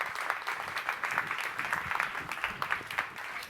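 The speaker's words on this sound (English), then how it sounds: "Please give them a round of applause." Conference audience applauding steadily as presenters from Meta walk on stage, a dense, even patter of many hands filling the room without voices.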